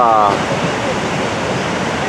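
Niagara Falls roars as a steady, dense wash of falling water, loud and continuous, with a brief tonal sound at the start.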